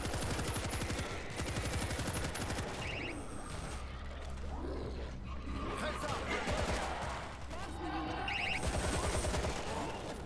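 Rapid mechanical rattling of automatic turret fire in the zombie shooter World War Z, a continuous, dense chatter that holds through most of the stretch with brief breaks, moderately loud and mixed with game noise.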